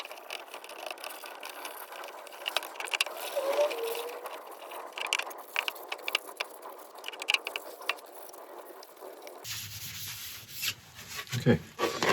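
Cloth rubbing a finish coat onto a walnut woodturning, a soft, steady scuffing and swishing that carries on close by, with a rougher burst of friction near the end.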